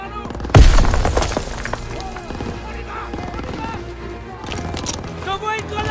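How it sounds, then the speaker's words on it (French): A grenade goes off in the Call of Duty WWII video game, a sharp loud blast and shattering crash followed by rumbling battle noise while a voice talks over the action. "J'envoie une grenade!"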